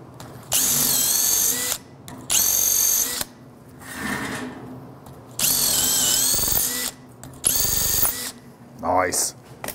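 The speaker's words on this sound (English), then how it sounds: "we're gonna drill out these set screws and all the dirt" A power drill whines in several loud bursts, stopping and starting as it drills out old rusty set screws packed with dirt, with brief pauses and a little speech between runs.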